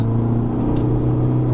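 Engine of a 2021 Isuzu D-Max X-Terrain pickup on a mountain road, a steady droning hum with low tonal rumble as it pulls through gear changes between third and fourth, continuous and close without speech.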